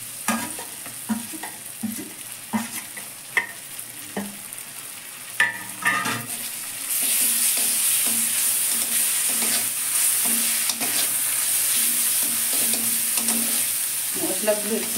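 Ginger, garlic, turmeric and Kashmiri chili powder fry in a pan with cooked dal, while a spoon scrapes and stirs in irregular knocks. A steady loud sizzle swells from partway through and continues to the end, with no talk.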